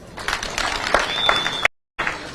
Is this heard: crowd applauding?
yes